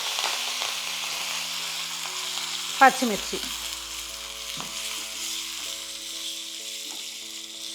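Mustard seeds, dried red chilies, asafoetida and curry leaves sizzle steadily in hot oil for a South Indian dal tempering, with a brief louder crackle burst near the middle as something drops in, all close up.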